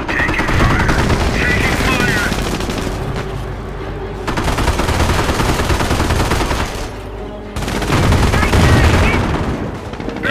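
Sustained gunfire from the Company of Heroes battle, loud automatic bursts and shots filling the whole stretch with brief lulls, mixed with game voice chatter.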